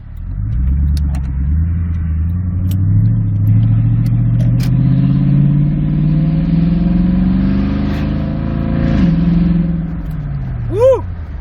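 A Toyota Tundra 4.6L V8 with a muffler delete exhaust revs up close, its loud, raw drone climbing steadily in pitch, then dropping back and easing off near the end.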